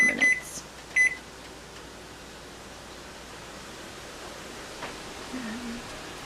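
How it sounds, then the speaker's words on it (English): A kitchen timer gives two short electronic beeps near the start as it is set, followed by quiet room noise with a faint low hum in a home kitchen. "Set the timer for 4 minutes."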